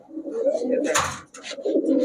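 Pigeons coo steadily in low, throaty murmurs close by, with a brief rustle or flutter partway through.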